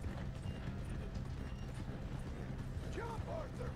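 Hooves of a galloping horse in the Red Dead Redemption 2 video game, steady rapid clip-clop thudding under a layer of game ambience, with a brief whinny-like tonal call near the end.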